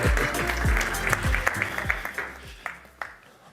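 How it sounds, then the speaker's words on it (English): Applause from an audience, steady clapping that gradually thins out and fades over a few seconds, with some background noise. "Round of applause."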